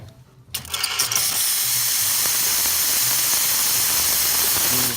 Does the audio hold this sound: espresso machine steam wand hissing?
yes